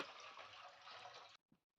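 Water pours steadily into a cooking pot on a gas stove for tomato kanji, a loud continuous splashing gush that stops abruptly, followed by a brief clink.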